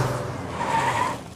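A car skids loudly as it spins around, a continuous screeching tire squeal lasting over a second in a movie sound effect, with no talking.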